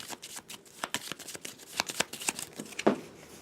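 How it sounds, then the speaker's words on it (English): A deck of playing cards is given a quick shuffle, a run of close, crisp riffling and snapping bursts with a louder flutter near the end, no talking. "you're going to take your deck and give it a quick shuffle"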